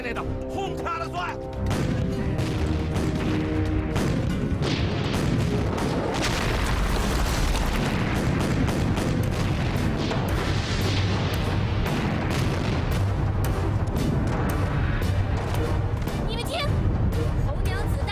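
Cannon fire in a battle scene from a Chinese period war drama: loud, continuous booming blasts that roll on for the whole stretch, with voices mixed in.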